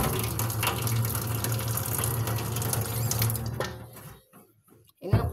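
Water pours steadily from a tap as a continuous loud rush, then cuts off near the end, leaving a short quiet gap before a brief splash.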